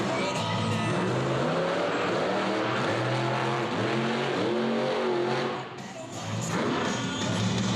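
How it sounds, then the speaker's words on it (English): The all-new Rockwell Red monster truck, owned by Team Throttle Monster, roars with a loud sustained engine rev at a monster truck show in Tremonton, Utah, its pitch rising and falling with a brief dip near the end. "Up next is the all-new Rockwell Red, driven by Paul Jensen"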